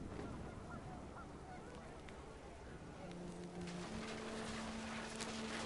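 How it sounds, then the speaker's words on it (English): Panicked geese honk in the video game What Remains of Edith Finch, a steady din of game ambience with faint voices talking over it. "The wind picked up, and panicked geese appeared and quickly went"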